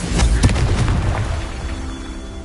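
A Confringo fire spell bursting in Hogwarts Legacy, with a few loud booming impacts close together at the start and a rumbling tail that fades away.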